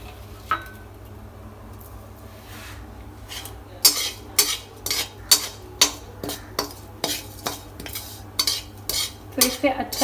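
Sesame, fennel and ajwain seeds dry roasting in a pan, stirred with a metal spoon that scrapes and taps the pan in a steady run of sharp close clinks over a low background hum.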